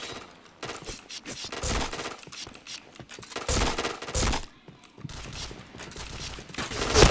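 Gunfire rattles in bursts through a shooting video game, rapid volleys rising and falling with mechanical clicks and scrapes in between, loud and close with no talk.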